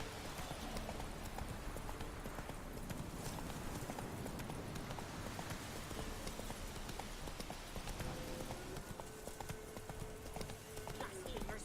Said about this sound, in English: Move it! You lazy, lazy horse.